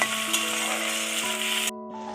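Tomato and capsicum sizzle steadily while being stirred in a frying pan, a continuous close frying hiss with a faint scrape, cut short near the end.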